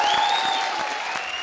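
A television comedy show's studio audience claps loudly and steadily for the Comedy Circus cast, a dense wash of applause with a thin musical tone ringing over it.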